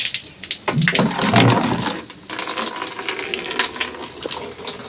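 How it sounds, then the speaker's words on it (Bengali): Water runs continuously from a tubewell tap fed by a submersible pump that won't shut off, a steady splashing gush close by with no talk. "এই যে জলটা পড়ে যাচ্ছে এখান থেকে এই কলটা না বন্ধ হয় না"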